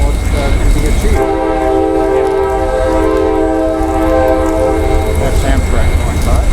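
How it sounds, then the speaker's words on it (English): An Amtrak train rolls past outdoors, a loud continuous rumble with a sustained horn blast holding for several seconds before fading back into track noise. "That's Amtrak going by."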